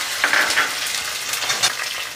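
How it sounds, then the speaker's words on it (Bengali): Peanuts frying with nigella seeds in hot oil, a loud close sizzle with bursts of crackle and light stirring scrapes, no voices. "বাদামগুলো একটু ভেজে নেব।"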